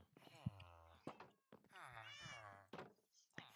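A cat in a Minecraft village meows twice in a row, each call a drawn-out, wavering cry, heard clearly near the listener with a soft thunk between them.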